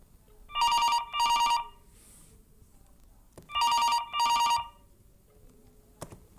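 A telephone rings for an incoming call to the MicroSIP softphone: two double-ring bursts a few seconds apart, loud and electronic, with a quiet room between them.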